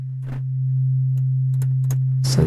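A synthesizer in Reason plays a steady low sine-wave note, a smooth pure hum that swells in and holds, with a few faint clicks and taps over it and a brief noise burst at the end.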